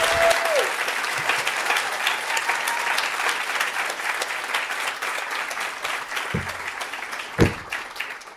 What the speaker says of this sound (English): let's bring our speakers down for a big round of applause